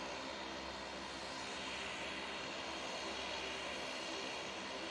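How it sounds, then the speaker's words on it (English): An ATR turboprop airliner taxis onto the runway at Manchester Airport, its engines a steady, broad, fairly distant drone that holds even throughout with no talk. "the ATRs. There they are, coming on to the runway."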